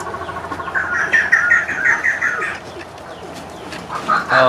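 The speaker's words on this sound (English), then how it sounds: "Malayan crestless. Yep, this is an impressive bird." A Malayan crestless fireback in an aviary gives a run of repeated short calls in a clear burst, then a couple more calls toward the end, with faint background chatter and outdoor ambience.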